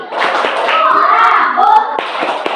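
A classroom group claps hands in a quick burst of overlapping claps, with children's voices chanting along throughout.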